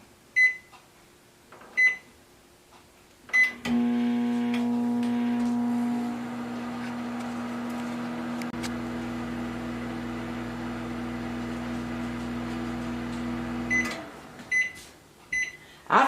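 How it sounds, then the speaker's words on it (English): A microwave oven hums steadily with a low electrical drone for about ten seconds, framed by short beeps and clicks before and after. "Now we'll start by closing up the microwave, and then we'll start with 30 seconds."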